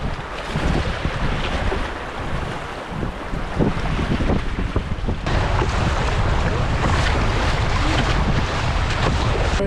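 A canoe on a boreal river in early spring nears rushing, bouldery rapids; a steady loud roar of churning whitewater and wind fills the scene throughout, with no talking.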